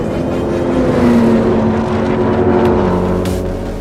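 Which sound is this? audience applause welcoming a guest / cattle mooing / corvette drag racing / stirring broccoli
corvette drag racing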